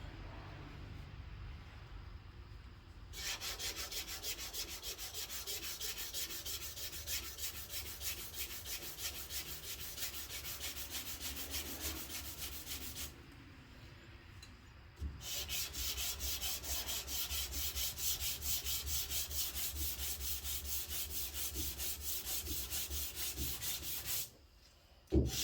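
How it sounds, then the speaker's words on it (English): Sandpaper worked by hand along a body line on a car panel makes a steady, close rubbing scrape in two long passes with a short pause between them, then stops. "I don't run the sandpaper over the line by mistake"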